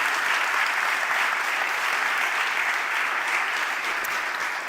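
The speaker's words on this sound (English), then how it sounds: "I think we need another round of applause" An award ceremony audience applauds in a steady, dense wash of clapping that holds for several seconds, loud and even with no voices standing out.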